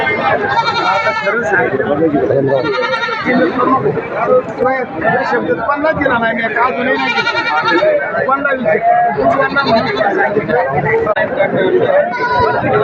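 Goats bleat repeatedly and loudly close by at a goat and sheep market in Shirur, Pune district, their wavering cries overlapping with people talking nearby.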